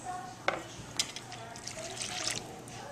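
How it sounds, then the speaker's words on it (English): Three-quarters of a cup of milk pours and splashes into a bowl in a short burst, with a soft trickling sound and a few small clinks nearby. "Pour it in the bowl."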